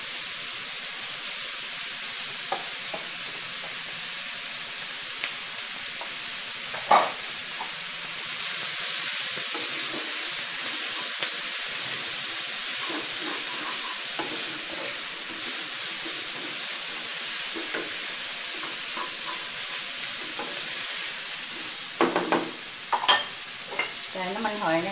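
Glass noodles are stir-fried in a wok with cabbage, shrimp and pork, producing a continuous close sizzle with stirring scrapes and occasional utensil knocks against the pan, with no speech.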